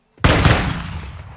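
A single heavy burst of gunfire in the video game Call of Duty MW2, starting abruptly after a moment of silence with a loud blast that fades into a rumbling tail.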